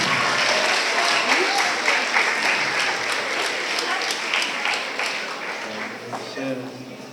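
Audience at a school moving-on ceremony applauds art award winners, sustained clapping that slowly tapers off, with voices talking underneath.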